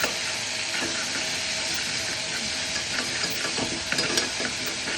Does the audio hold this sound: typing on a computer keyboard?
no